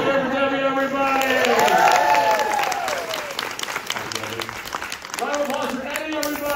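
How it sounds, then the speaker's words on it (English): Theater audience at a horror make-up stage show applauding, a dense wash of clapping with a host speaking loudly over it and cheers rising and fading. "Round of applause for Eddie, everybody!"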